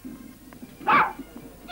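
A Skye terrier in a Scottish film gives a short yip or whimper near the middle and another at the end, fairly close, with quiet room sound in between and no talking.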